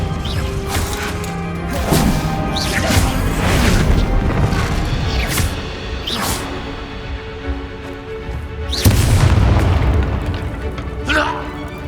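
Expulso blasting spells explode during a Hogwarts Legacy combat sequence: repeated heavy booms and crashes, loud and close, with a big blast near the end, over dense, continuous battle effects.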